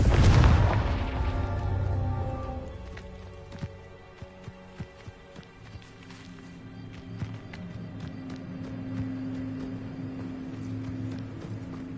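In the video game Hogwarts Legacy, a Confringo fire spell bursts with a loud, deep boom that rolls off into a long fading rumble, followed by light footsteps and faint ambient tones.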